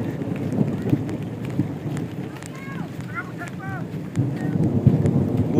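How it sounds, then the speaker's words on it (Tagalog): Heavy rain and thunder at sea: a dense wash of rain and wind roars steadily with low rumbling, while people talk over it throughout. "Sa lakas ng ulan."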